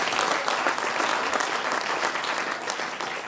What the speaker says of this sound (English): I was expecting a bigger applause